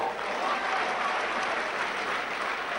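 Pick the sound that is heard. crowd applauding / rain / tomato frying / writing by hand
crowd applauding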